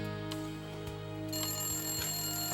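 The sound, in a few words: telephone ringing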